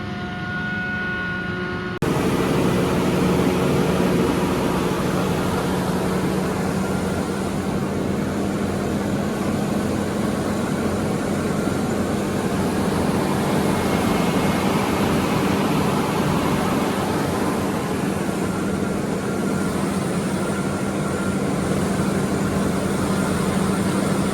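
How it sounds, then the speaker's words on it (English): A large tractor engine drones steadily and loudly throughout, a continuous low rumble with a faint hum, no voices. "It's a big old tractor"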